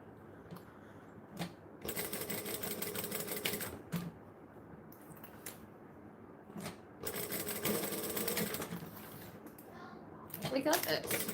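A sewing machine stitches fabric in two longer runs of rapid mechanical chatter, with clicks and handling noises in the pauses and a person speaking between bursts.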